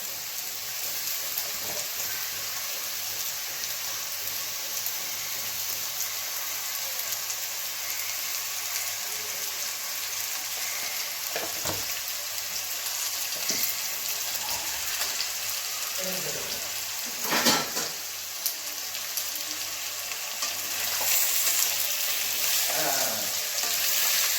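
Potato pieces fry with salt in a pan, a continuous hiss and crackle of hot oil with occasional louder pops and scraping, steady throughout with no voices.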